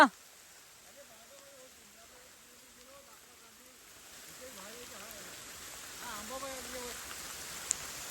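Steady morning rain falls over a Konkan village, a soft even hiss that swells slightly in the second half, with faint voices talking underneath.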